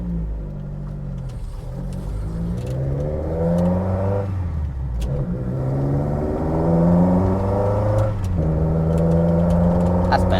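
A Mk1 Caddy with twin Weber 45 carburettors driving, its engine droning and rising and falling through gear changes, steady and close, with a voice speaking over it.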